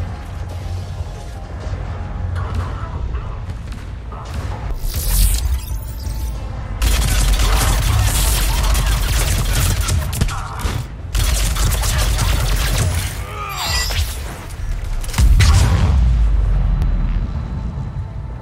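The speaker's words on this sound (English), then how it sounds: "Those cannons have to be stopped." Heavy cannon blasts and rumbling bursts repeat over a dense mechanical din in the video game Mass Effect 3, loud and continuous with several stronger impacts.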